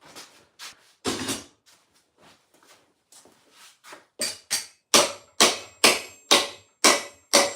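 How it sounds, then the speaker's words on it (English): A rubber mallet strikes an armor piece on an anvil, starting with scattered irregular taps and settling into a steady run of about ten loud, evenly spaced blows, close up with no talking. "grabbing a rubber mallet and smacking it on the anvil to get that little bow out of it"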